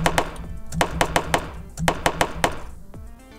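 Shots fired in a simple Clickteam Fusion platform game: a rapid series of sharp, punchy thunks in an uneven rhythm, about a dozen in quick succession, loud and close.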